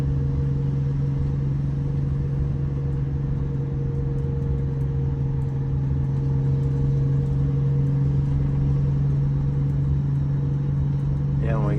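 Flxible bus with a Detroit Diesel engine droning steadily as the transmission shifts down, a constant low hum that stays loud and even throughout, heard from inside.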